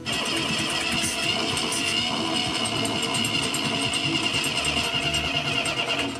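A bare engine inside the homemade tank contraption turns over without a fuel pump, giving a steady, loud mechanical chatter that runs the whole time without catching.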